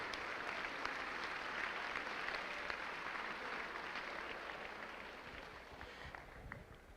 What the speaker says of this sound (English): one more round of applause for all 211 of our Eagle Scholars